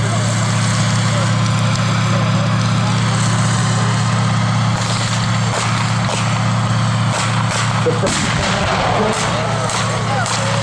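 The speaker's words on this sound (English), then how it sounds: "They start laying down a base of fire in support of that tank." A military reenactment at a tank farm in Nokesville: a tank's loud, steady engine rumble runs throughout, while scattered sharp gunfire cracks and blasts from the supporting squad break through over the last half, with a voice talking under the din.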